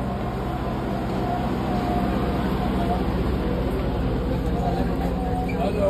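Inside a moving monorail at Palm Jumeirah in Dubai, a steady, loud cabin rumble runs throughout with faint rattles, and people talk over it.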